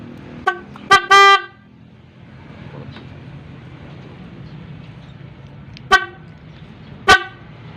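A car horn honks in short loud blasts, a quick double toot near the start and two more single honks later, over a low idling rumble.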